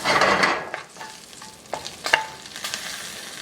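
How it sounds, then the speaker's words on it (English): Hot peppers frying in oil for a shrimp and bitter melon stir-fry, with a sizzle that starts loud, fades, then picks up again in short crackling bursts and spoon scrapes, close by, with no voices. "In goes the peppers, just for that to release just a little bit of heat."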